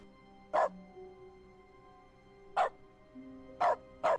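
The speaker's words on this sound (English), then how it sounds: "Now every time I click, it barks." Cartoonish dog barks triggered by mouse clicks in The Stanley Parable: four short, sharp yips spaced irregularly, each loud and alone over a steady low game hum and background music.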